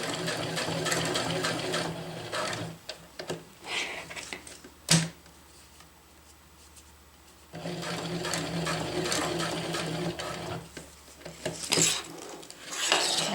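A sewing machine stitches a DIY water bottle carrier in rapid, close mechanical clatter. It runs in two long stretches, with a quiet pause and small handling clicks and a sharp tap between them. There is no talk.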